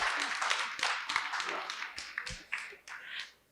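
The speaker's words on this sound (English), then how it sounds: "clap." An audience claps in short irregular bursts of taps, close and fairly loud, with brief pauses between them.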